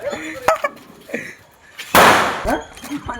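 A Diwali firecracker bursts with one loud, sharp, broadband crack, preceded and followed by scattered voices and small knocks nearby.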